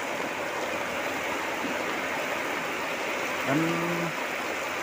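Heavy rain pours steadily over the Sundanese countryside, a dense, even hiss that fills the scene, with a brief tonal sound cutting in near the end.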